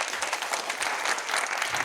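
Audience applause welcoming an event organiser at a Marathi speech gathering, a dense, steady clatter of many hands clapping throughout, fairly close and even in loudness.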